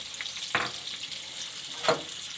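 Green chillies fry gently in ghee in a pan with onion, a soft steady sizzle under two brief louder bursts of stirring or clatter, close and fairly quiet.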